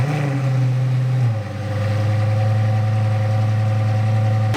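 A Lamborghini engine already running, dipping briefly then settling into a loud, steady, deep idle with a throbbing low drone close by, no voices.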